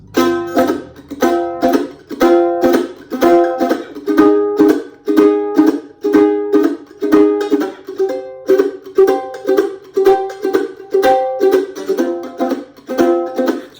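Mandolin playing the shuffle outro of a song in F, with steady swung strummed chords repeating in a bouncy rhythm, close and alone.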